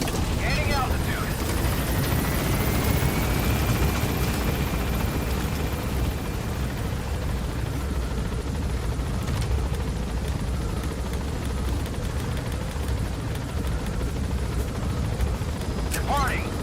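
An extraction helicopter in a video game lifts off and gains altitude, its loud, dense rotor and engine roar filling the clip with a sustained, even wash of noise.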